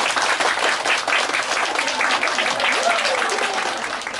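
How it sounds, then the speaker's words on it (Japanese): An audience claps at a singer's campaign event for a new release, a sustained, even round of applause from a modest crowd, with a faint voice or tone threading through underneath. "皆さん、大きな拍手をお願いします。"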